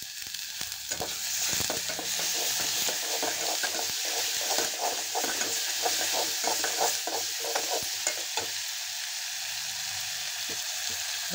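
Potato bhaji with tomato and coriander sautés in a pan, a constant close sizzle broken by repeated scraping strokes of a spoon stirring it for several seconds.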